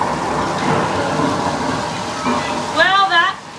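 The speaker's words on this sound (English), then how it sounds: "Rain is created with overhead sprinkler systems." Artificial movie rain from overhead sprinkler systems on a studio tour hisses steadily and loudly, with a broad wash of falling water and a voice heard over the spray.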